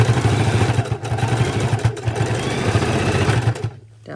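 A sewing machine stitching a seat belt cover runs steadily with a fast, even mechanical clatter, close and loud, then stops abruptly near the end.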